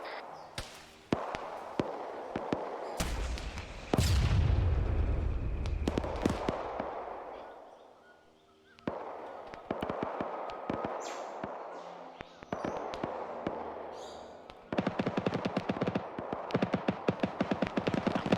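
Sharp gunshots fired in Arma 3 at a BTR armored vehicle, a few loud reports with a heavy boom near the middle, separated by gaps and followed by scattered impacts and softer game noise.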